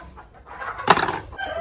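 Bantam chickens cluck softly nearby, with one sharper, louder squawk partway through.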